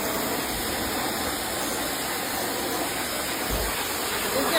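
A pressure washer sprays a pair of dirty Birkenstock sandals, caked with mud from an ATV ride. A loud, steady hiss of spraying water holds without a break from start to finish.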